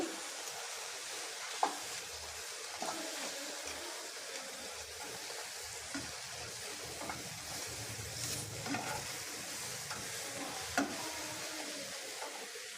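Spicy Tamil-style crab pepper fry stirred in a pan, giving a faint, steady sizzle broken by soft scraping strokes and a few sharper clinks of the spoon against the pan, with no talking.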